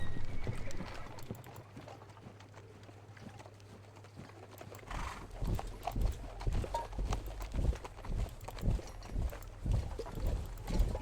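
Horse-drawn artillery moving up in a Napoleonic war strategy game: steady clip-clop of hooves, getting stronger and more rhythmic after a quieter start, with a low rumble beneath and a brief whinny.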